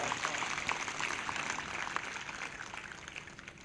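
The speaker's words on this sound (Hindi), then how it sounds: "फिर से एक जोरदार ताली बजाएं प्रभु की महिमा के लिए" An audience at a prayer service claps together, producing a dense, even wash of applause that holds steady throughout, moderately loud and slightly distant.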